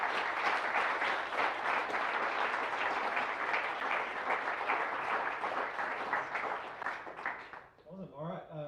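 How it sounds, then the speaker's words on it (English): Sustained audience applause at a product meetup talk in Wellington, a dense steady clatter of many hands that fades near the end as a voice begins talking. "All right, big round of applause."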